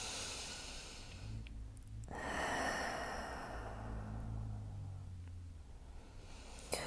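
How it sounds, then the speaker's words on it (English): Slow deep breaths during a relaxing yoga session, with long breathy exhales and inhales. The airy sound stays close and steady and fills the whole stretch, with no talking. "Another big inhale. Big breath out."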